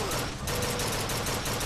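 Rapid gunfire from the video game BioShock Infinite, a dense, loud, continuous barrage of overlapping shots filling the whole moment with little letup.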